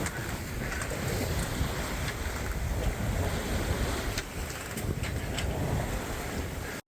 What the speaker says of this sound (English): we are sailing in a lovely calm sea, getting 12 knots wind